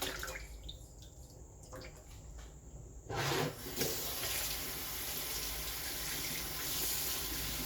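Atipa fish rinsed under a running tap, a quieter trickle and handling at first, then the water gushes fuller and steady, close and continuous, no talk.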